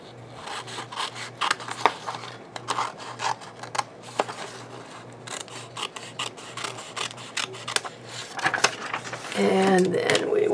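Board being cut by hand to cover a thick book during a book repair, giving a steady run of rough scraping, rubbing strokes at close range, with a faint low hum underneath and a louder burst near the end.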